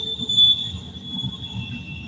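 Train wheels squealing on a nearby track, a thin steady high-pitched whine held over a low rumbling roll of cars passing, fairly faint and continuous without voices.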